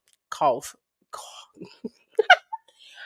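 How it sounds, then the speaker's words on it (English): Several harsh coughs and throat-clearing bursts come in quick, uneven succession, close and fairly loud, with brief pauses between them. "I'm about to go do something about this cough."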